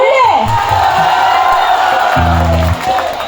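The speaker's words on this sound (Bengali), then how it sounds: "সবাই সামনে, সবাই একটা ফাটিয়ে হাততালি দিয়ে একটু বুঝিয়ে দাও।" At a Belda Basanta Utsav spring festival stage show, the audience cheers and whoops loudly in a dense crowd roar, with voices shouting over it and a brief tonal blare partway through.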